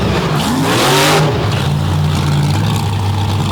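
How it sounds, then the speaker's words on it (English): A race car engine revs hard and loud up close while cutting a donut on an empty pit area at an Overdrive Battle event, rising pitch sweeps settling into a sustained roaring drone. "he's cutting a donut out there in the empty space that used to be our hot pit"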